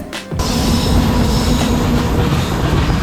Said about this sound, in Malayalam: ഗുഡ്സ് ട്രെയിൻ നമ്മളെ പാസ് ചെയ്യുകയാണ്